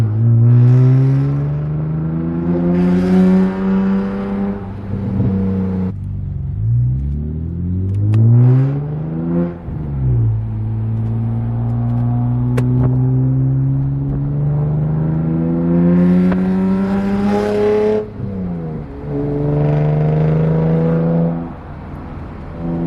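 BMW E46 M3 with a rebuilt differential driving on the road, engine rising in pitch through several gears with shifts between, a steady loud drone heard from inside the car.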